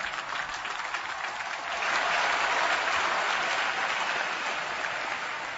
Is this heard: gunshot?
no